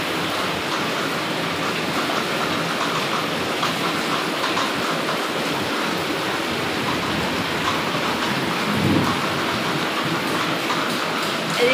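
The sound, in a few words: heavy rain with thunder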